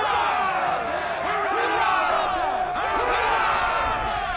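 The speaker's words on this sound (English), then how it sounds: "How's about a cheer for the boys, then, eh?" A ship's crew in Assassin's Creed roars a loud, sustained group cheer aboard the Aquila, many overlapping voices shouting and whooping together over a swelling crowd din.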